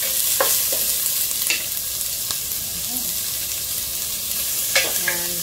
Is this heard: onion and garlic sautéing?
yes